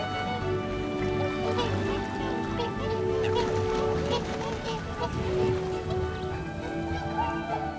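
A wintering flock of whooper swans at Daegu's Ansim Wetland calls continuously with overlapping loud, trumpeting honks from many birds, some near and some farther off.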